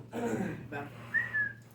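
A person whistles a single rising then level tone, short and fairly quiet, right after a brief burst of talk.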